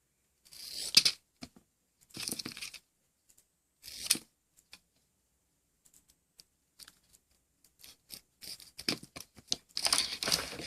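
A homemade cheese snack is cut with scissors. Several short, crisp snipping bursts are spaced by silent pauses and grow denser toward the end, close and clear, with no talking.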